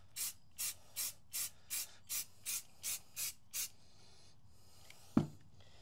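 A spray can puts a flat sand base coat on a pistol in ten short, evenly spaced hissing bursts, followed by quiet and a single sharp knock, with no talking.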